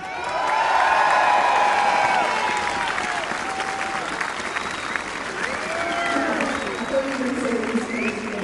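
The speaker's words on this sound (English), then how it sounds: "Keep that applause going, ladies and gentlemen." Loud, sustained crowd applause at an outdoor Proms in the Park concert, with cheers and whoops rising over the clapping and a voice speaking over it for several seconds.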